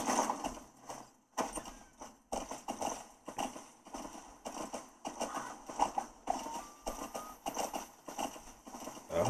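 Steady clip-clop of horse hooves at a trot in a video game on a Lenovo Legion Go 2, rhythmic and continuous, with brief pauses, sounding close by.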